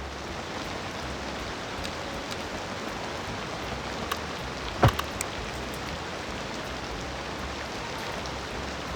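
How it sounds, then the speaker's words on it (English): Steady rainfall in the city-building game Cities Skylines II, a continuous even hiss of rain on surfaces with one sharp isolated click midway, no talk. "I'm letting time run because I can't with this rain."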